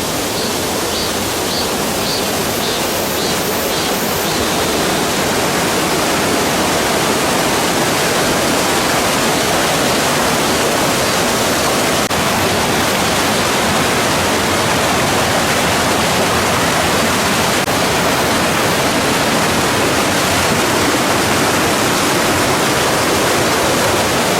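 Biryong waterfall at Jukgye Gugok in Yeongju pours in a loud, unbroken broadband rush that holds steady throughout, close and without any voices.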